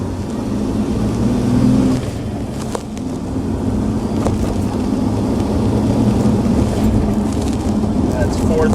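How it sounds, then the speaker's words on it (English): A car engine drones steadily while the driver downshifts through the gears, a loud, close rumble washed with wind-like cabin noise and a slight change in tone early on. "And let's downshift again."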